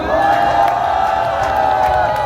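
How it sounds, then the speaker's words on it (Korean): Crowd at an outdoor political rally in Gwanghwamun cheers and applauds a speaker's arrival, a loud continuous wash of clapping and shouting voices with some tonal noise running through it. "뜨거운 박수로 맞아주셔야 되지 않겠습니까?"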